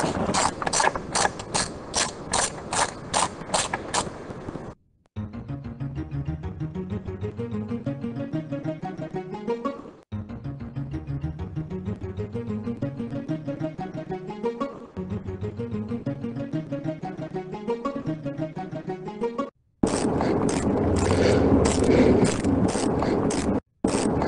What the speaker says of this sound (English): let's use this 10mm socket and ratchet to take this nut off